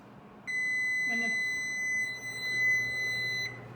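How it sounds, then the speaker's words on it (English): A stove timer sounds during cast iron pan preheating on a kitchen stove, giving a steady high electronic beep held for about three seconds at moderate volume, with faint low kitchen hum behind it. "When the timer goes off"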